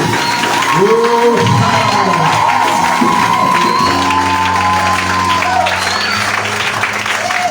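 A church congregation cheers and applauds loudly, with clapping mixed with shouts, whoops and sung or held voices throughout.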